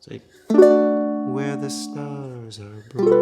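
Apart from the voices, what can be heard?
No distinct noise like a dog, phone or traffic.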